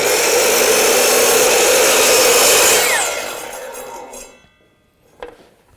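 Power saw blade cutting wood for a drop-front desk: a loud, steady high whine for about three seconds that winds down as the blade spins to a stop, followed by a small clink.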